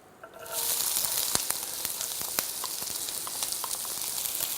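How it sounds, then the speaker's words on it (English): Onions drop into a hot, oiled frying pan and burst into a steady, loud sizzle with occasional pops and crackles, continuing without pause. "Now this time we are sautéing the onions off."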